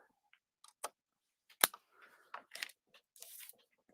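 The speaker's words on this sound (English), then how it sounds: "We're just going to trim this off right at the edge." Close, crisp snips and crunches of scissors cutting paper, in irregular short bursts with quiet gaps between them.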